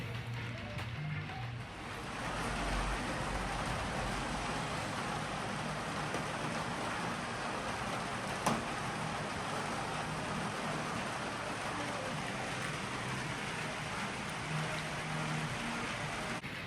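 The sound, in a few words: rain falling in Cornwall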